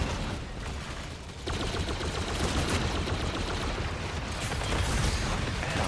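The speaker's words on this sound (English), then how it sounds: "Friggin' arc mortars." Arc mortar blasts in the Destiny 2 video game, a dense continuous barrage of crackling explosions and gunfire at loud, close range with no break.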